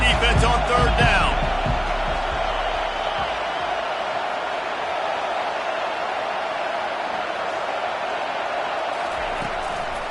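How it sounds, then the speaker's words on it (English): Stadium crowd roar in the College Football 25 video game as fans get loud for the defense on third down, a dense sustained wash of noise over the full stretch with a few sharp thumps early on. "Decibels rising as the crowd gets behind this defense on 3rd down."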